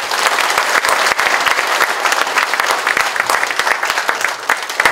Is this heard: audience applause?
yes